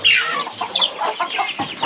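Chicks and hens on a farm in the rainy season, chicks hatched from country hen eggs, clucking and peeping in a busy, continuous run of short calls close by.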